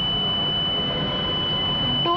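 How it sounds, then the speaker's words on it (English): Pantry car system buzzer sounding a continuous high electronic alarm tone, steady and loud throughout, with a brief change at the very end. "And here at the buzzer gives an alarm."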